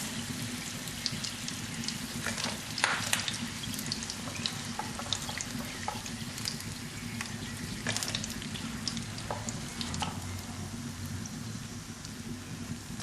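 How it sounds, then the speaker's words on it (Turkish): Steady oil frying hiss as rice-filled börek fries, with crackling pops throughout, a low hum underneath and occasional sharper clicks; no talking. "Ve diğerlerini de aynı şekilde kızartmaya devam ediyoruz."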